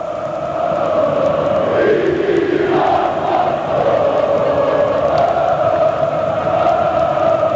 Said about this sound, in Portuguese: A torcida do Flamengo não para de cantar um só instante.